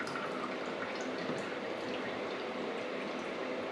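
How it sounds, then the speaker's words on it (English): Bone broth pours from a roaster pan through a mesh strainer, a continuous close splashing and trickling of liquid. "I've got my mesh strainer here. And I'm just going to start transferring it over into the"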